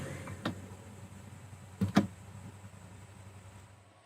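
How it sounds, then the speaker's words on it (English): On a Rolls-Royce Cullinan, the Spirit of Ecstasy ornament lowers and rises with two faint, short mechanical clicks and a soft motor whir in a quiet cabin. "you'll obviously want to put down and raise your spirit of ecstasy"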